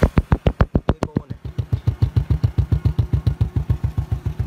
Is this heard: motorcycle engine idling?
yes